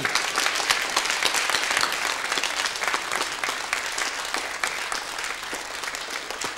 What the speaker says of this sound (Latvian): Sagaidīsim ar aplausiem.